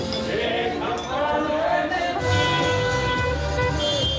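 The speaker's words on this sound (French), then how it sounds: "Klaxon et bannière au vent." Car horns honk in a street wedding procession with banners waving, overlapping toots sounding amid traffic and crowd noise, steady and fairly loud throughout.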